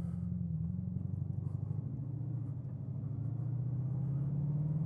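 A Bugatti Chiron Sport pulling away from inside the cabin, a steady low engine drone and rumble rising gradually in pitch as speed builds, fairly quiet with no talk.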